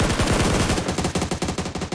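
Rapid bursts of automatic gunfire in the PUBG battle royale game, played on console, loud and close with a steady rattling rhythm throughout and no talking.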